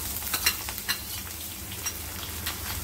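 A large onion sizzling in hot tempering oil with curry leaves for val khichadi, dense steady crackle close by with a few sharp pops.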